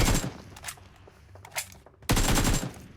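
Bursts of gunfire in the mobile battle game PUBG Mobile, a rapid volley at the start, a few scattered shots in the middle, then another loud sustained burst near the end.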